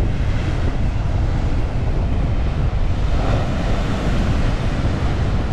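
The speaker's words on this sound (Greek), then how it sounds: "Αυτό εδώ πέρα είναι το νερό που έρχεται μέχρι έξω." Waves wash up onto an island shore in a strong south wind, a loud, continuous roar of surf and gusting air with no voices.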